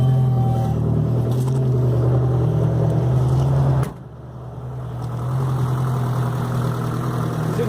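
A 1981 Toyota Corolla Tercel engine idling roughly, a steady low hum with an audible uneven pulse, loud and close, dipping abruptly midway before settling back to an irregular idle.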